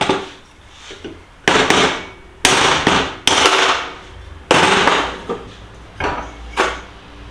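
Repeated hard metallic hammer blows ring out one after another at an uneven pace, close and loud, with short pauses between strikes, as a worn bearing is driven out of a motorcycle using a hammer, mallet and piece of pipe.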